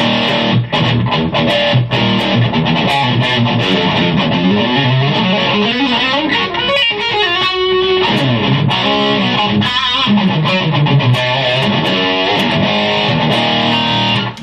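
Heavily distorted electric guitar through the lead channel of a Mark IV amp, playing fast riffs and bends, loud and continuous, with a thick saturated sustain throughout.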